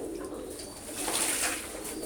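Pigeons cooing near a spot where they gather to bathe, a soft, steady murmur of low coos with a faint airy wash behind it, no voices.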